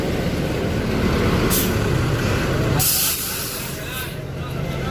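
A full Bagong Jos bus from Kediri pulls into a busy stop, its engine rumbling close by while sharp bursts of air brake hiss sound several times amid background talk.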